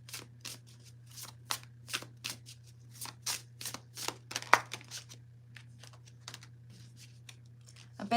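A Fairy Godmother Oracle card deck being shuffled, a series of quick crisp riffling snaps in an irregular rhythm, close and quiet over a steady low hum.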